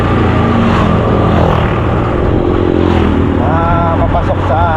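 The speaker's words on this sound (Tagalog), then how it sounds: "Ganitong oras, ang daming mga motor na dumadaan," Motorcycles speed past on a rural road beside a yard where papayas grow, their engines a steady loud roar with a rising whine near the end, mixed with traffic hum and some background voices.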